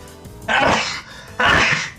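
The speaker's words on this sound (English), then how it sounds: "I have to sneeze." Two sneezes about a second apart, close and loud, each a sharp burst with a breathy hiss.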